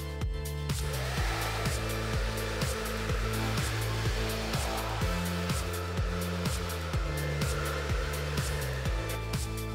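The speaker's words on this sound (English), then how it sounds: "I wanna blow dry it straight up" Handheld hair dryer blowing steadily while hair is brushed straight up from the roots, a continuous close whooshing hum with rhythmic low brush strokes running beneath it throughout.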